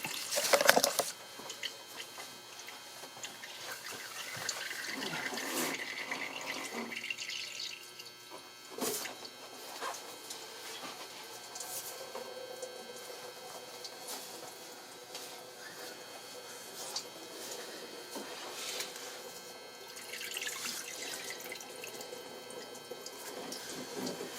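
Coolant drains from the engine of a 2010 Kia Soul during a thermostat replacement, a steady trickling, splashing flow with occasional drips and clinks, fairly faint and continuous throughout.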